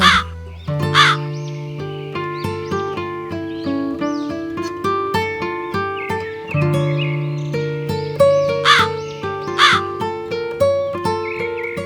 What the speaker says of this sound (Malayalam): മോളുടെ നെയ്യപ്പവുമായി കാക്ക നേരെ പോയത് ഒരു കാട്ടിലേക്കാണ്